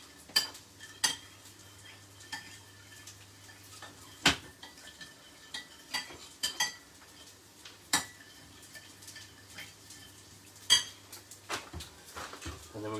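Raw chicken thighs seasoned with salt and pepper get mixed in a bowl, with scattered clinks and taps of utensil against dish and soft wet stirring, separated by quiet pauses.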